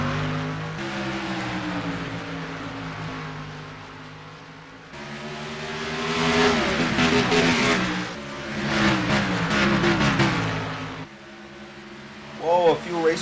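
Race cars roar off the start of a superspeedway race, a loud dense mass of engines building and surging with passing swells, while a commentator talks over the noise throughout.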